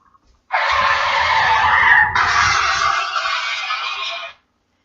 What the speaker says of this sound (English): The startling sound of a vehicle crash